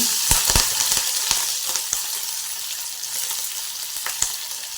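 Mustard seeds, cumin and green chili crackle and spit in hot oil, a steady close sizzle broken by sharp popping bursts as the seeds burst, with no talking.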